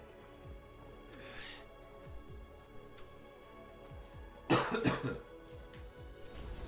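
A streamer coughs during a Final Fantasy XVI gaming session, a short burst of loud, harsh coughs standing out above a steady background of game sound.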